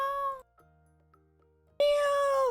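A cat gives two loud, drawn-out meows close up, split by a short pause filled with faint low background tones.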